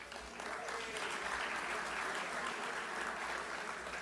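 Sustained audience applause fills a room at a scholarship awards event, a dense, even wash of many hands clapping for about four seconds with no talk over it.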